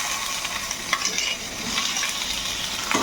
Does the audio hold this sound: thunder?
no